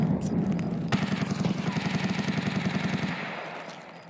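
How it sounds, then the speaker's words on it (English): Gunfire in the video game Escape from Tarkov: a rapid burst of automatic shots rattles for about three seconds, fairly loud and dense, then fades out with no talking. "Oh, that's a gunshot."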